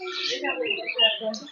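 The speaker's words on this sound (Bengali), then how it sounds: "এই দেখো কত পাখি রয়েছে এখানে, পুরো চারিদিকে উড়ে বেড়াচ্ছে।" Birds chirp and call all around in a zoo aviary, a busy mix of overlapping tweets and squawks that continues without a break across the whole moment.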